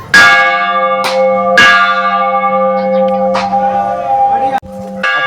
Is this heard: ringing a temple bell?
yes